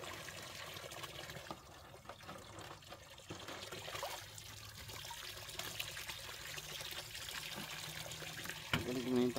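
Cold spring water trickles and pours steadily into gallon containers outdoors in the province, a continuous watery splashing with faint background voices.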